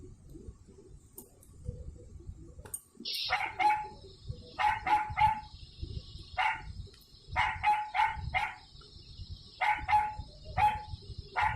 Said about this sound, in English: it is the barking sound of a dog